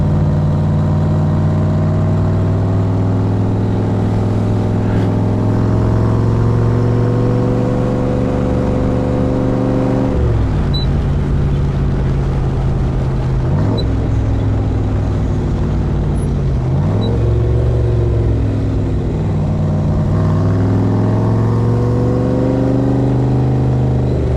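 A 1965 Backdraft Cobra replica drives with its engine running strongly, a steady loud drone that rises in pitch through the gears with clear shifts between them.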